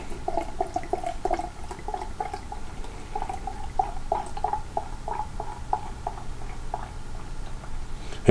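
Green Man Brewing's 2014 The Dweller imperial stout poured straight down the center into a glass, a steady liquid splash with a faint gurgle running throughout at moderate loudness, no voices.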